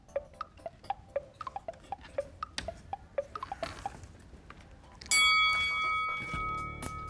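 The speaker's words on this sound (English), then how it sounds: "ding goes the bell" A quiz-show bell dings once, loud and ringing, after a run of steady ticking from a countdown timer, then its tone slowly decays.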